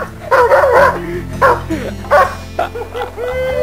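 A trained guard dog barks on command in several loud, close bursts, with whining yips between the barks.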